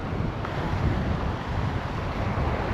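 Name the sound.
wind at the beach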